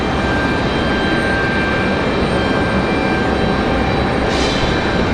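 An Endeavor CRJ regional jet arriving from JFK at Raleigh-Durham roars loud and steady, a continuous broadband engine rush with no voices.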